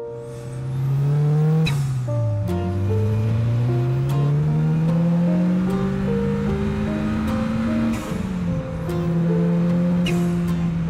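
A car engine revs hard as the car drives off. It is loud and close, rising in pitch through several gear changes, with a brief dip near the start and no voices.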